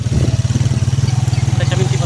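Loud, close motorcycle engine throbbing with a fast, even pulse while riding along a rough road, steady throughout the short stretch.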